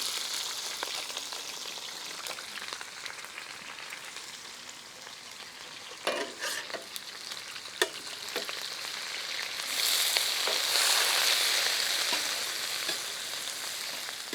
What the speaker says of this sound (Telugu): దీంట్లోనే మనం ఉల్లిపాయ ముక్కలు వేయించుదాం పీసెస్.